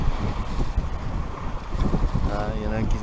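Wind rushes across the microphone aboard a cruising sailboat off Corsica, with a steady gusty roar, the wash of water against the hull and a faint voice-like tone near the end.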